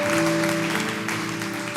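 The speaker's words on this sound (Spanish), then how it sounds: "den un aplauso al Señor" Church congregation applauding during a Spanish-language Sunday worship service, a steady wash of clapping with a sustained musical tone held underneath throughout.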